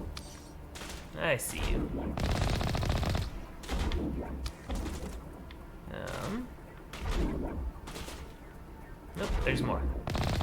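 Sniper and other gunfire in Mass Effect Legendary Edition comes as repeated loud cracks and short bursts around sniper towers, spaced through the scene, while a person talks briefly between the shots.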